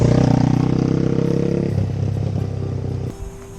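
Motorcycle engine running steadily while a learner rides in second gear, a loud close droning throb that eases off and drops near the end, with no talking.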